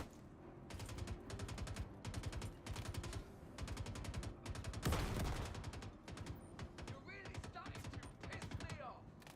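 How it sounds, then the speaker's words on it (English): Star Citizen combat: rapid bursts of automatic gunfire repeat in quick rhythmic runs, broken midway by one loud booming grenade blast, then more scattered shots. "This is time for a grenade."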